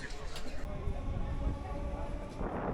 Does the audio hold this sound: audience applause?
no